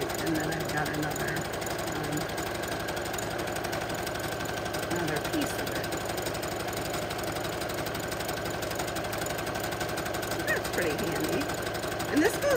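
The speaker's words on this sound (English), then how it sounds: "it's kind of relaxing to just sit here and let it stitch and kind of guide it along" A sewing machine runs steadily, stitching bias tape onto fabric as a decorative embroidered embellishment, with a continuous mechanical hum and rapid needle chatter that holds for the full stretch at moderate, close range.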